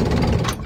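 A cartoonish pumping sound effect from a kids' vehicle-building game, a short, loud, dense mechanical rumble as a pump fills a car's tank.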